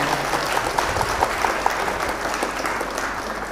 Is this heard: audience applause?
yes